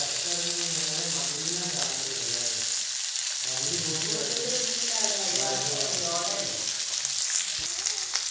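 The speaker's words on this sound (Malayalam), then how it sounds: "ഈ ഭാഗം പൊരിഞ്ഞു വരുമ്പോൾ നമ്മൾ മറിച്ചിടണം കേട്ടോ." Spiced beef pieces deep-frying in oil give off a continuous loud sizzle and bubbling, with occasional stirring clatter, close and alone.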